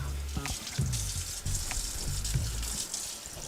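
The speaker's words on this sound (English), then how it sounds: "let's wash up our cutting board." Water running from a kitchen tap while a cutting board is washed at the sink after cooking beef chow fun, a steady close splashing and gushing with clattering knocks of the board against the sink.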